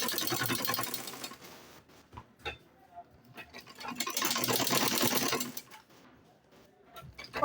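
A sewing machine runs in two steady bursts while top stitching a fabric gift bag, its rapid needle rattle loud and close, separated by quieter pauses with light handling noises.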